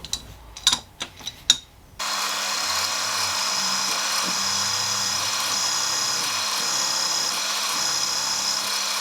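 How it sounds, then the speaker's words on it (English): A steady, loud whine of a 5mm drill bit biting into metal, drilling tapping holes for M6, starts after a few brief knocks and runs without a break to the end. "I'm plunging in with an 5mm drill bit"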